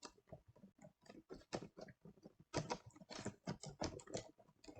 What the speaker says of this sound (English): Let's check out the typing here and see if you can hear me clicking.